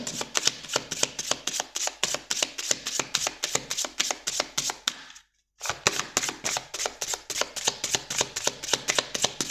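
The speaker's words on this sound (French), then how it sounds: "on prend une carte de conclusion avec l'oracle des inspirantes pour les scorpions" A deck of oracle cards being shuffled by hand, with rapid, regular riffling snaps close up, a brief pause partway through and then more even shuffling. No voice is heard.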